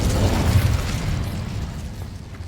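A fire spell bursts in Hogwarts Legacy, a heavy roaring explosion with a deep rumbling body that starts loud and slowly fades over a couple of seconds, with no talk over it.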